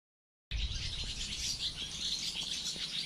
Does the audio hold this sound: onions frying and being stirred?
no